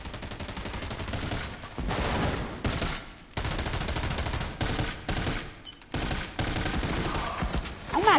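Rapid automatic gunfire from a first-person shooter game, bursts of loud close shots in quick clusters separated by brief pauses, continuing almost throughout.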